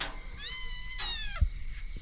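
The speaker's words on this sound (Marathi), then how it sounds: "कॅरेटमध्ये कशी मांजरं बसलेत पिल्लं ही दोन आहेत" Two kittens in a crate give drawn-out, rising and falling meows, one long cry followed by a shorter one, close and fairly soft over light room noise.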